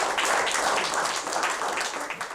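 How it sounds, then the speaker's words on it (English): A group of about twenty people selected for the next round of a selection process claps together, a steady wash of applause with no break, fairly loud and close. "So give yourself a round of applause."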